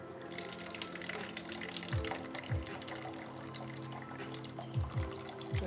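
Water trickles and splashes steadily while houseplants are watered from a small pitcher indoors, a faint continuous pour with a few soft low thumps, and no one speaking.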